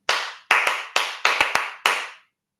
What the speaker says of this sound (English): you tap a rhythm or clap a rhythm, and they clap it back to you